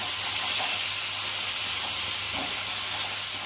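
Fish frying in hot oil, a dense continuous hiss and sizzle with a few soft spattering pops, close and fairly loud with no talk.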